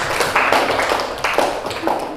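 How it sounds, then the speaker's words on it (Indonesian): A classroom gives a presenting student group a round of clapping, with quick uneven claps from a small crowd and some voices mixed in. "aplaus untuk kelompok 3"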